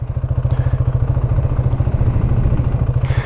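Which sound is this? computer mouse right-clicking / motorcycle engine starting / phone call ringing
motorcycle engine starting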